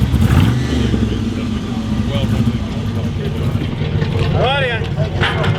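Cars passing by at a Mad Max 40th anniversary gathering in Clunes and Maryborough, with a loud, continuous low engine rumble close by, a brief rising whistle near the end, and voices mixed in.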